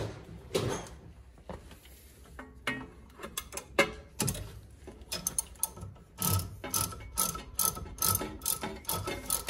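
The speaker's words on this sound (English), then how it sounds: "let's use the ratchet for that." A hand ratchet tightening a bolt on a Honda Odyssey during CV axle replacement, with bursts of rapid close clicking from the pawl, mixed with clanks and shuffling of tools, and no talking.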